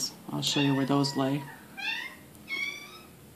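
A house cat meows several times, drawn-out tonal cries near the microphone, with a person talking quietly before and between the calls.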